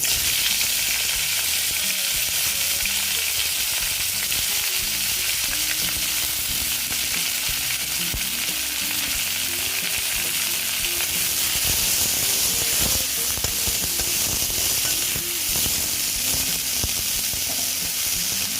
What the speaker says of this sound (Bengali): আর একটু তেল দিয়ে দিচ্ছি দিয়ে এই যে করলাগুলো ভেজে নিচ্ছি